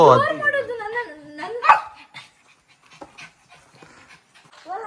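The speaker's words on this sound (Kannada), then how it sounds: "ನಾಯಿಗಳೆಲ್ಲ ಫುಲ್ ಓಡಾಡ್ತಾ ಇದೆ" Several dogs run about close by, panting rapidly, with a short whining yelp at the start and scattered soft yips and paw movement afterward.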